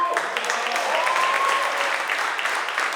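A crowd at a university entrepreneurship pitch competition applauds in a steady, dense wash of clapping for about three seconds, with a faint voice underneath.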